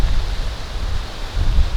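Heavy rain and wind beating on a camping tent, a dense broadband hiss with low gusty rumbles swelling near the end, close and steady, no voices.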